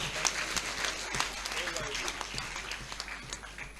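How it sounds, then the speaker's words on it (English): Audience applause at the opening ceremony of an engineering women's conference, a steady patter of clapping with sharper individual claps throughout, under faint voices. "Can we give my president another resounding applause?"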